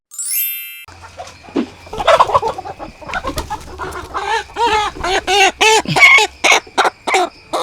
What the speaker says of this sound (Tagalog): Painom sa ilahang mga manok dire